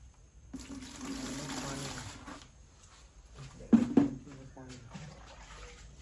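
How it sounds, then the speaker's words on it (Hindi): Water splashing and running while a motorbike is washed with water and shampoo outdoors, with a steady spray and then sharper sloshing bursts. Voices talk over the washing. "अभी हम इसको धोएंगे, वॉश करेंगे शैम्पू से"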